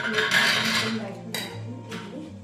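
Idli batter goes into idli plates amid clinking steel dishes: a bright rattle of metal at first, then a couple of sharper clinks, with a voice talking underneath.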